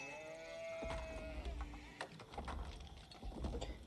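Sheep bleat faintly in Age of Empires 4 amid a busy background of soft clicks and ambient game sounds, with no talking.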